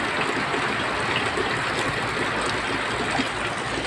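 Rainwater pours steadily into a house through a damaged roof, a dense, continuous rushing splash like a small waterfall, close and unbroken.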